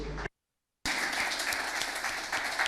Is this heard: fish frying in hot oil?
no